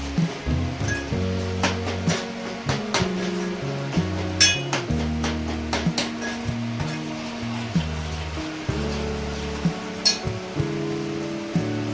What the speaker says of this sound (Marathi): आता करू आपण याला मिक्स